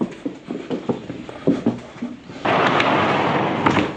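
Horse hooves clop irregularly on a hard floor as a horse walks into its stall, several steps, followed by a sudden hiss of rustling bedding or wind noise.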